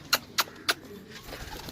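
Pigeons on a household rooftop, with three short, fairly loud calls at an even pace early on, followed by quieter low murmuring.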